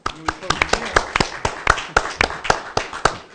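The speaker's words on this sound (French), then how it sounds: "On applaudit." Hand claps at a public talk with a European Parliament member, sharp separate slaps in an uneven rhythm, fairly close and clear, with voices murmuring underneath.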